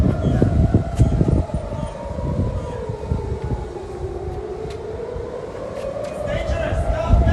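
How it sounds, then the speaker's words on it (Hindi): Air raid siren wailing over Israel in wartime, a rising and falling tone sweeping continuously through the clip amid loud street noise and a reporter's voice talking throughout. "सुन सकते हैं आप सायरन, सुन सकते हैं आप सायरन"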